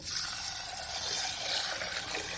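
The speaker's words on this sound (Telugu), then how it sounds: "నీళ్ళు కాస్త ఎక్కువే పోయాను" Water poured over urad dal soaking with a little fenugreek, a continuous close splashing gush with a bright, hissing quality that holds steady from start to finish.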